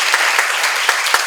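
Brief, steady applause from a congregation at a church seminar on Hosea: a loud, even burst of many hands clapping together, with no speech over it.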